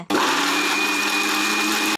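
A mixer grinder grinding coconut for a masala kicks in after a brief pause and runs as a loud, steady, high-pitched whir for about two seconds before cutting off, with no talk over it.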